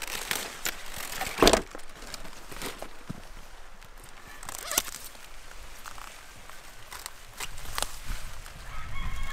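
Backyard chickens cluck and call outdoors at feeding time, scattered and moderately distant, with a rooster-like crow and occasional sharp knocks over steady outdoor ambience.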